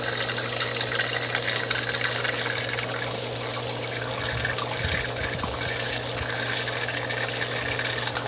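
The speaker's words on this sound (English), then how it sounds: "you can easily, just slowly, trickle it down in there." Water slowly trickles into the eductor port of a Clack sulphur filter, giving a steady, faint liquid hiss and rush over a constant low hum, with a few soft gurgles partway through.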